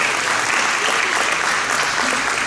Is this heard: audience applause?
yes